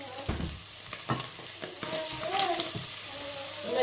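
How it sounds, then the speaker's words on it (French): Tuna searing in a hot pan for a roasted tomato stew, a steady sizzle and crackle broken by stirring and scraping bursts, close and fairly loud, with a voice speaking briefly over it. "Il faut bien griller votre thon."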